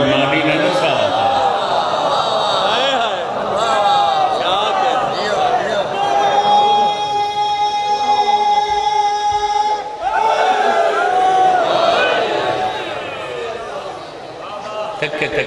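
A crowd at a Shia majlis gathering chants slogans and calls out in unison, loud and close, over a steady wash of voices, with a leading voice calling out above the crowd.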